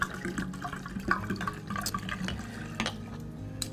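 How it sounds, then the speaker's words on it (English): Mollydooker 2014 The Boxer Shiraz from South Australia being poured into a decanter, a continuous splashing, gurgling liquid stream with small bubbling clicks throughout. "we're gonna pour it in the decanter and you might see it in there."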